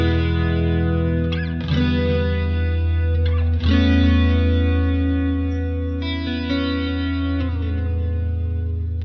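Clean electric guitar played through chorus and delay effects in Reason, sustained chords ringing with shimmering modulation and echo tails, a few new strums striking over about nine seconds, loud and up close with no talking.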